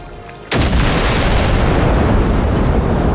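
A loud, sustained explosion from an anti-tank rifle blast in the video game Generation Zero, set in southern farmland, bursting in after a brief quiet moment and roaring on as a dense, rumbling wash of noise.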